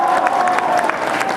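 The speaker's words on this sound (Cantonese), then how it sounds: "可唔可以俾多啲熱烈啲嘅掌聲" Audience applause at a 2016 ACG event contest with ten competing teams, a dense, steady patter of many hands clapping close by, with faint cheering mixed in.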